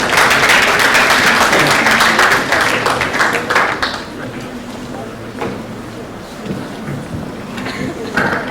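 A large audience at a health innovation pitch session applauds to welcome a presenter: loud, dense clapping at first that thins into scattered claps as it fades.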